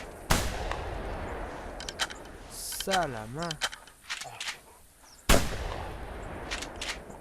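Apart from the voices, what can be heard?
gunshots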